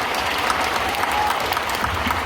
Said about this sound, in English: Let's get a big round of applause for Asante Blackk.